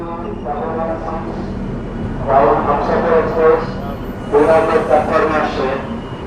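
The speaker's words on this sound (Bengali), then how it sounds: "রানাঘাট জংশন রেল স্টেশনে ঢুকলো শিয়ালদহ জলপাইগুড়ি রোড হামসাফার এক্সপ্রেস" The Sealdah–Jalpaiguri Road Humsafar Express enters Ranaghat Junction with a steady rolling rumble, while a voice speaks in two bursts over it.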